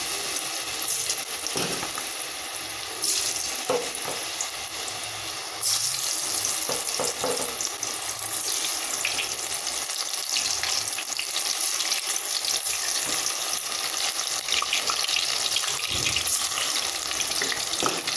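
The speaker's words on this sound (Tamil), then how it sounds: "இப்போ கேஸ் பற்ற வச்சு எண்ணெய் காய வச்சுருக்கிறேன். ஒவ்வொன்றா பொரித்து எடுத்துடலாம்." Mushroom pieces deep-frying in hot oil on a gas stove, a steady dense crackling sizzle close by with a few brief louder spatters, no voices.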